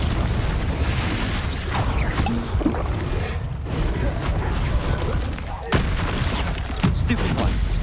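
Spell blasts, among them Confringo, hit again and again in a Hogwarts Legacy battle, a dense loud roar of booms and crackling bursts with sharp hits. A player calls out spell names over the noise.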